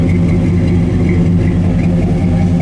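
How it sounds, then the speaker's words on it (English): A 1965 Chevrolet El Camino idles steadily through its dual exhaust, a loud, close, continuous low rumble with no talking. "Dual exhaust sounds good."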